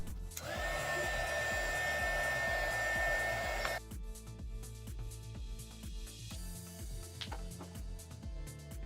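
A heat gun shrinking heat shrink tubing over solder joints on a portable variable power supply build blows with a steady, loud rushing roar for about three seconds, then cuts off, leaving a quieter rhythmic music bed.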